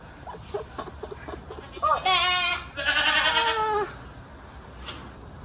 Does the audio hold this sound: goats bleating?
yes